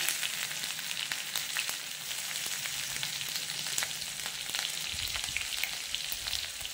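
Cumin seeds, grated ginger and green chili fry in white cooking oil, giving a steady close crackling sizzle with scattered pops and some low stirring thumps near the end.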